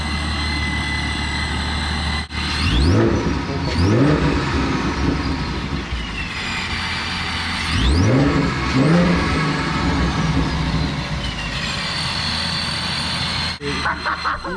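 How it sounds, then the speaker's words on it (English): Ford Mustang with a newly installed Procharger supercharger revs twice, each a sharp rising-and-falling burst over a steady idle, with supercharger whine above; loud and close, no talking. "Alright, first little rev."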